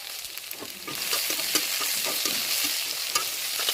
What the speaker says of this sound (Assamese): পিঁয়াজখিনি অলপমান ভাজি কিনে ধুনীয়াকৈ কালাৰটো আনিছোঁ।